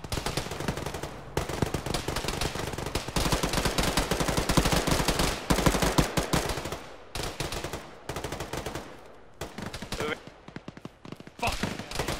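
Heavy sustained gunfire in the military shooter game Arma, with dense automatic bursts and rapid shots filling nearly the whole stretch, loud and close, pausing only briefly between volleys.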